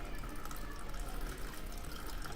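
Water poured slowly from a standard cup into the tank of a budget cooler fan, a continuous soft splashing trickle that stays even throughout, heard alone without talk.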